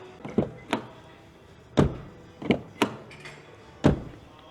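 Rear doors of a 2024 Renault Duster shutting with solid, deep thunks, several sharp closes spaced irregularly over a few seconds, close to the car with no talking.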